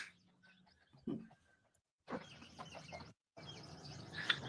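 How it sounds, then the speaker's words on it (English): Small birds chirp and tweet in short scattered bursts outdoors, fairly faint against background noise, with a few brief gaps of near silence. "Here comes Rocky chasing the birds"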